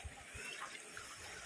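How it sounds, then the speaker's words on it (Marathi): A small natural waterfall in a village rushes in a faint, even wash of water that carries on steadily without pause. "छोटासा असा धबधबा आहे"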